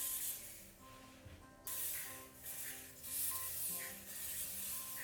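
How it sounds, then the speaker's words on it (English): Way Soft hairspray aerosol misted onto dry, highlighted hair, giving a steady close hiss in several bursts with short pauses between. "I'm gonna use the Way Soft Hairspray."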